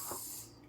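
Lemon juice splashed over chicken with olive oil, a brief close hiss and spray of liquid that fades after a moment.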